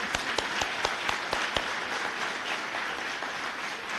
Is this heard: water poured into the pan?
no